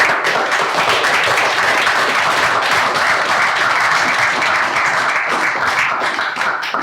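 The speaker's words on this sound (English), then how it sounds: "I hope that you'll thank our main speakers this evening with a final round of applause" A full room claps for the main speakers at the close of a public meeting on new nuclear in Cumbria, dense continuous applause close and loud from start to end.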